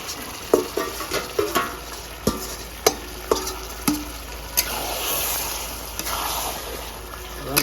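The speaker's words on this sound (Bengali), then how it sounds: "এবার মটনটা ঢেলে দেবো ম্যারিনেশন করা" Marinated mutton sizzles and fries in a pan while a spoon stirs it, with a series of sharp scraping clanks against the pan at irregular intervals over a steady hiss, and no talk.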